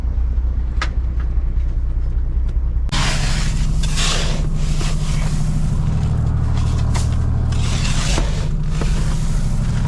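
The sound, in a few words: commercial fishing boat motoring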